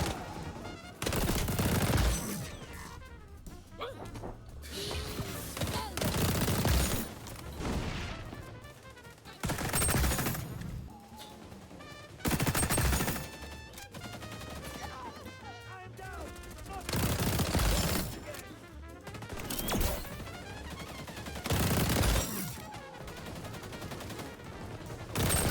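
Vector submachine gun in XDefiant firing in repeated loud automatic bursts separated by short pauses, close and dominant throughout, with game sounds filling the gaps.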